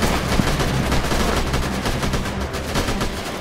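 Rapid bursts of gunfire crackle continuously in the video game Freeman: Guerrilla Warfare, shots overlapping in a dense, loud volley with no voices.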